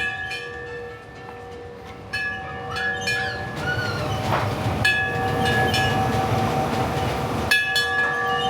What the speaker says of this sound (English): just had a ride on the Runaway Mine Train, and it's a great little family coaster